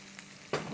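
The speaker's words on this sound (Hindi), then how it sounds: "ये पैन में हम चूल्हे को ऑन करते हैं और यहाँ हम डालेंगे तकरीबन 4 से 5 टेबलस्पून तेल" Oil sizzles in a pan on a lit stovetop, starting faint and then swelling into a louder steady crackle about halfway through, with no voices.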